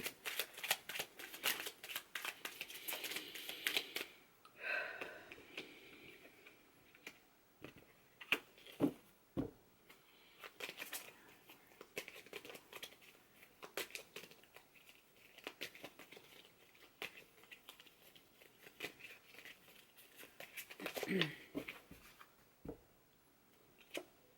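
A tarot card deck being shuffled up close, with repeated riffling bursts and crisp card flicks in irregular runs and short pauses between them.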